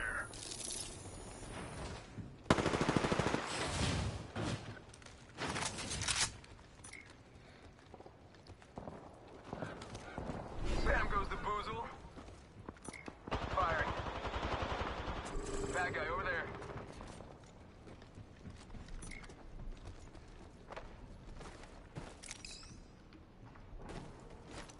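Gunfire rattles through a video game match in bursts over about twenty-five seconds, mixed with clattering effects and other game noise, sometimes loud and close, while a player talks at intervals.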